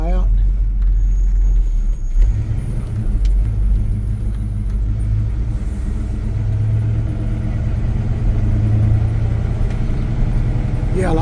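A 1984 Chevy C10 pickup with a four-speed manual floor shift rolls along slowly, its engine a steady, close, low rumble that holds without pause from start to finish.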